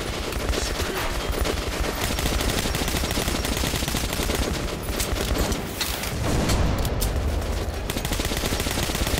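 Heavy, sustained automatic gunfire in Metro: Last Light, a continuous loud rattle of rapid shots with booming bursts that swell again near the six-second mark, no speech over it.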